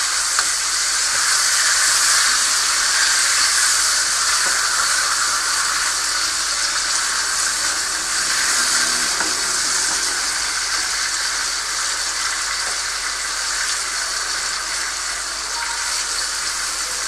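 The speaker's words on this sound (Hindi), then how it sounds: "लहसुन इस तरह मैं फ्राई जो कर रही ना, लहसुन नहीं इसका जलना चाहिए।" Garlic frying in a pan after a splash of water is added, giving a loud, steady hiss and sizzle that runs unbroken throughout with no talking.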